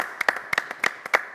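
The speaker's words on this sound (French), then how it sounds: "On peut l'applaudir." A small studio audience on a TV set claps for a young U12 tennis champion, a few sparse, distinct claps in an uneven rhythm, fairly faint and with no voices.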